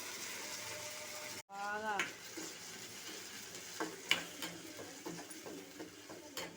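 Cauliflower and carrot fry in a pan with a soft, steady sizzle, broken by occasional clinks and scrapes of stirring, while a voice talks over it.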